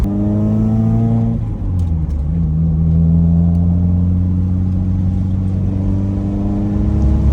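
A car's engine drones steadily from inside the cabin while driving, with a sustained low hum and a gear change partway through shifting the pitch, loud and continuous with no talking.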